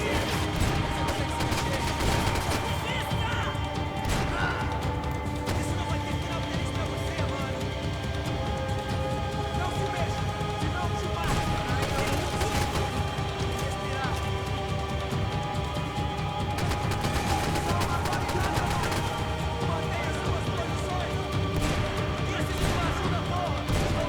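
Dense gunfire and crashing impacts fill a Max Payne 3 shootout, rapid cracks and bursts over a constant loud backdrop of game sound and music, with someone talking in German over the action.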